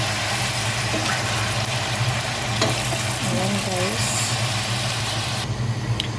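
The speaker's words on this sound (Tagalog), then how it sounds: "igisa muna natin ng mga ah, 2 to 3 minutes" Meat sautéing in a pan, a continuous loud sizzle with occasional scraping stirs and a brief low mechanical hum, no talking.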